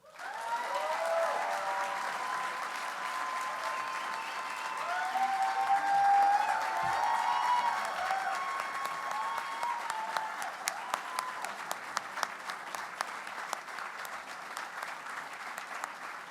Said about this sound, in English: We can keep applauding.